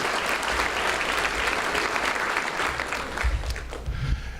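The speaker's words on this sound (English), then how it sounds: "One more round of applause." Crowd applause fills a hall of fame induction ceremony for Garland school sports, a dense steady wash of clapping from a large audience that holds throughout, with a few cheers rising near the end.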